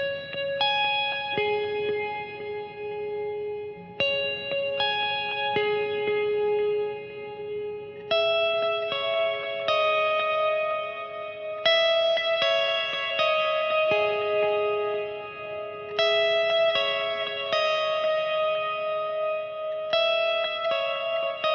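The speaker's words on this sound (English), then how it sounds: "The first one is going to be a really big ambient clean tone." A Schecter KM7 seven-string electric guitar plays a big ambient clean tone through a Fractal FM3, with sustained, layered notes and chords washed in heavy reverb and echo, steady and loud throughout, no voices.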